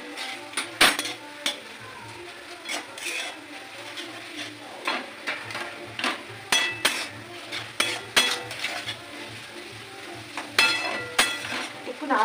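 A utensil stirs and tosses veg chowmin, Kolkata street-food style, in a pan, with repeated sharp metallic clinks and scrapes in an irregular rhythm over a soft sizzle, close and moderately loud.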